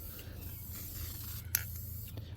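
Aerosol spray paint hissing steadily onto props for a World War II TNT reenactment display, a continuous close airy spray with a brief sharper burst midway, no talking.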